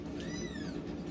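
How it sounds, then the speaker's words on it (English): A hungry kitten's high meow rises and falls once, standing out over a steady low background hum. "As you can hear, I've got hungry kittens in the background"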